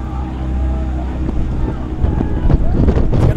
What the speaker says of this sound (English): A little gusty wind